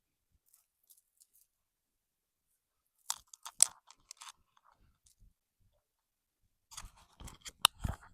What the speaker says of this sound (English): hopefully that's not making too much clicking noise, but put on our Christmas tree light necklace